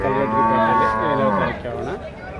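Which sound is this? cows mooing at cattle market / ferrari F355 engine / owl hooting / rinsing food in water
cows mooing at cattle market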